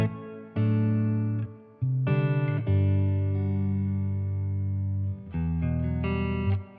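Sustained electric guitar chords through a Strymon Big Sky reverb pedal ring out with a wide, spacious reverb tail, played in a few separate strums with long decays and no talking.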